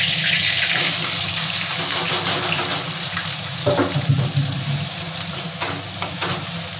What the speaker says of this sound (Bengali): তেলটা গরম হয়ে গেছে, এর মধ্যে একটা তেজপাতা দিয়ে দেবো। দেখুন এবার আমরা সেই আলুটাতে পেঁয়াজটা কুচিয়ে রেখেছিলাম, সেই পেঁয়াজটা আমরা দিয়ে দেবো।